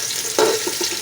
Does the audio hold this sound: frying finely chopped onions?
yes